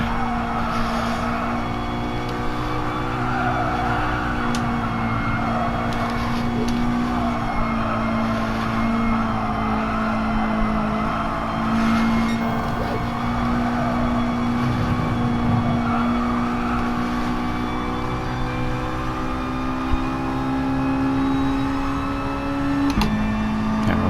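Mazda Roadster touring cars race in GT Sport on worn, sliding tires, a steady nearby engine drone holding pitch with slight rises and falls, plus faint tire and mechanical noise throughout.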